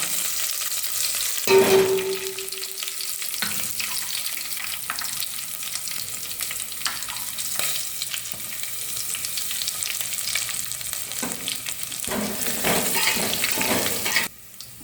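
Cumin and mustard seeds sizzle steadily in hot oil while cooking a bachelor-style pulao, a loud continuous fry hiss with occasional scraping stirs and light clinks throughout, cutting off abruptly at the end.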